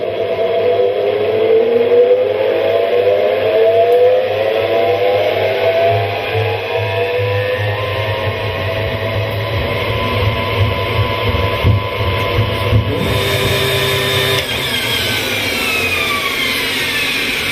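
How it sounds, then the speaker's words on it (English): An electric motor-driven honey extractor spins honeycomb frames at high speed, giving a steady mechanical hum with whining tones that slowly rise and shift as it runs, loud and continuous with no talking. "When the electric motor is switched on, the frames are spun at high speed."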